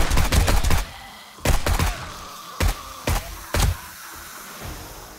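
Gunfire in the video game 7 Days To Die: a rapid burst of loud close shots, then another quick burst and three spaced single shots, with no talking over them.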